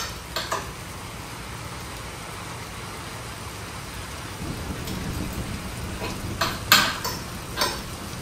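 Heavy rain pours down in a thunderstorm: a dense, constant hiss of water with scattered louder splashes and knocks, and a low rumble swelling in partway through.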